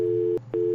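Phone busy tone on an unconnected call, a steady electronic beep cut by a short gap before it sounds again, clear and close.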